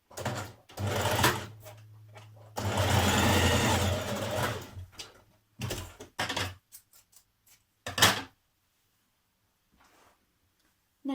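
A sewing machine stitches and backtacks shoulder seams on a top in several short, close bursts of rapid whirring, with pauses of quiet in between.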